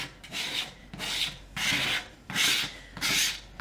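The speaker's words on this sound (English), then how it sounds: "we're going to take our scraper and we're going to go right over the top of our wax" Metal scraper dragged over a wax coat on a painted, aged wood sign, five rasping strokes in a steady rhythm, close and moderately loud, with no talking.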